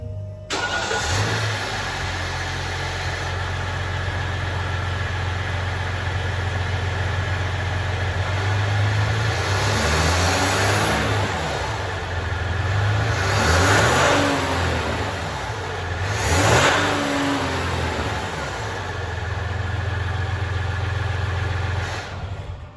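A Ram EcoDiesel truck fitted with Flo-Pro delete pipes cranks and fires up, then settles into a loud, close diesel idle broken by several rising revs that swell and fall back.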